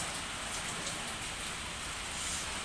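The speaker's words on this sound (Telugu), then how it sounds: "ఇలా వర్షం పడుతూ ఉంటే" Steady morning rain pouring down in a village, a continuous close hiss of drops hitting surfaces with no voices.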